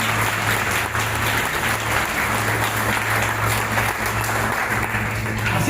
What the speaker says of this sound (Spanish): ¿Qué tal si aplaude el Señor por eso?